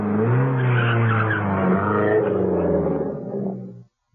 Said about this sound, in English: two cars raced up the main road towards the Tarragon bull ring